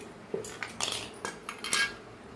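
A knife cutting raw green mango into pieces, several short crisp chops and clicks against a board or plate, spaced irregularly, close and fairly quiet.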